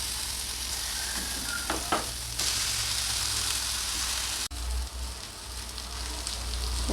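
Brinjal pieces fry in coconut oil in a pan, giving a steady, close sizzle with a broad hiss that runs the whole time and shifts slightly partway through.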